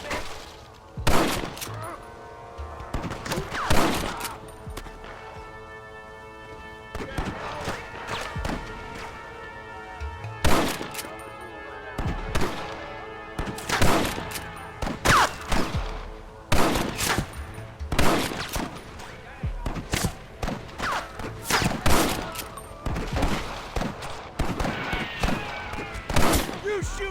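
A Red Dead Redemption shootout erupts in dense, loud gunfire: rapid volleys of close shots and thuds keep coming in bursts for the whole stretch, with shouted voices mixed in.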